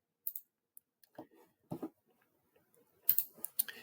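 Several sharp, close mouse clicks sound in the EDM programming software, some single and some in quick clusters, separated by brief silences.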